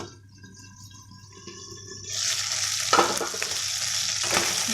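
Mutton fries in a covered pan: a quieter low simmer first, then a loud, steady sizzle swells up after a couple of seconds, with a few brief sharper pops and scrapes.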